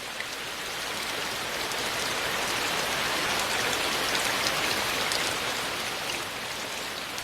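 Steady rain pours down on the walls of an ancient Buddhist temple, Magoksa in Gongju, a dense continuous hiss of drops striking hard surfaces nearby, with no pauses.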